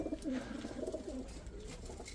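Pet pigeons coo in a low, steady, rolling murmur, several birds close by and continuous throughout, with no talking.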